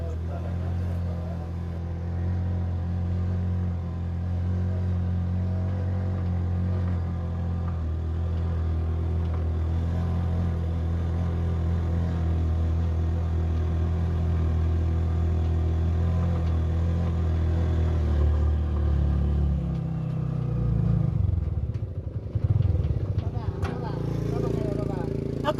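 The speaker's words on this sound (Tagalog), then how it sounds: "Ayan, medyo nahihirapan talaga yung tricycle na umakyat." A tricycle's motor labours steadily up a slope on the way to a pig farm at night, a continuous low droning engine under a strain that shifts and falters near the end.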